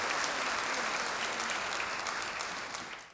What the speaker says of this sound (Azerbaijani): Naxçıvan incəsənət nümayəndələrinin ifaları tamaşaçılar tərəfindən alqışlarla qarşılanıb.